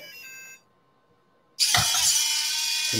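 Motors of an educational robot kit spinning together, a steady broadband whir starting abruptly after a short silence and holding loud to the end, preceded by a fainter tonal hum.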